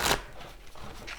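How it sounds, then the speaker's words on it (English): Tarot cards are riffled in a brief close-up shuffle, a quick burst of papery flutter followed by softer slides and taps. "Make sure we get a really good shuffle here for you."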